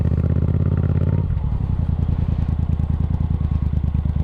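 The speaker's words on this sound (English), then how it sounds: "Clutch out, apply the throttle." A Yamaha FZ-07 motorcycle idles loudly up close, then the clutch engages and the throttle opens, the engine note dropping into a throbbing, pulsing pull as it rolls away.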